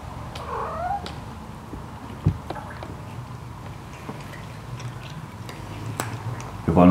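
Near the start, a cat gives a short, drawn-out meow in a quiet room during a whisky tasting. Soft clicks and small knocks follow, and a louder rustle comes at the end.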